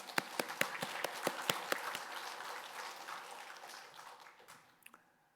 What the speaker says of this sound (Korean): 부활의 주님께 영광의 박수를 드리겠습니다